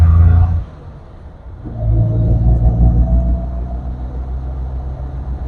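A 1996 Maruti Omni van runs on LPG while driving, its engine a loud, close, low rumbling drone that dips briefly before settling into a steady, throaty hum.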